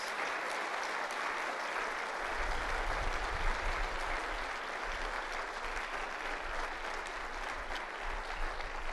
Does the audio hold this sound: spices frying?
no